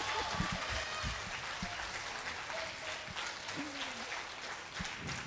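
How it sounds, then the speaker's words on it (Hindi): An audience at a women's conference claps in a steady wash of applause, fairly faint and distant, with scattered voices and a few cheers heard through it. "खुल के ताली बजाओ लड़कियों"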